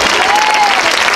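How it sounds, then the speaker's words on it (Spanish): Loud, steady applause fills the hall for a flamenco ballet troupe introduced at a live stage show, a dense wash of clapping that holds unbroken throughout. "Fuerte aplauso para él."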